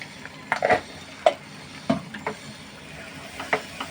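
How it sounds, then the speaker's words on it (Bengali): A spatula stirs a carrot and powdered milk sondesh mixture in a pan, giving a few sharp scraping strokes over a soft, steady sizzle, with no voices. "আবারও কিছুক্ষণ নেড়ে নিব"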